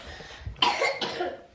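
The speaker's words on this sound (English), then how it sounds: "That's a bad cough." A single harsh, wet cough from a man, one sharp burst followed by a second shorter hack, close and fairly loud.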